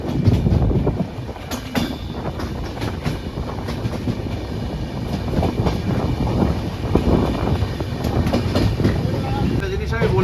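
The Kanchankanya Express rumbles out of Rampurhat station, heard from inside the carriage as a loud, continuous rolling roar with rhythmic clicks and clanks of wheels over rail joints, with voices faintly mixed in.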